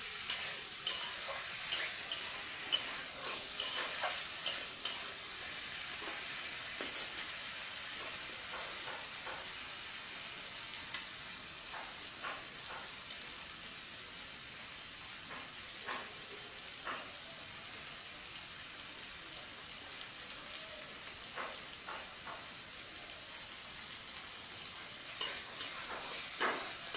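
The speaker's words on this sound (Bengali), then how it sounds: "আলুটাতে একটু কাঁচা লঙ্কাটা ভালো করে ভেজে নেব।" Potatoes and green chillies fry in a pan with a steady, close sizzle that runs throughout, punctuated by scattered clicks and scrapes of stirring, with a sharper clatter near the seventh second and more toward the end.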